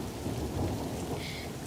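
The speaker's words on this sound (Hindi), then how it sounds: "रोड पर बारिश का पानी बाढ़ की तरह बढ़ रहा था।" Heavy rain pours steadily onto a road with a deep rumble of thunder rolling underneath, a dense continuous downpour with no voices.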